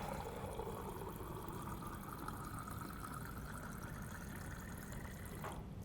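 A water dispenser runs a measured 12-ounce pour, a steady faint stream of filling water with a low machine hum that cuts off near the end.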